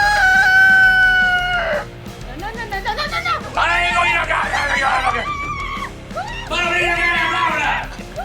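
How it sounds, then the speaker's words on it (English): A rooster crows loudly and close, three long strained cries in quick succession with hoarse, wavering tone. "that rooster gonna go off on you like that grumpy old dude"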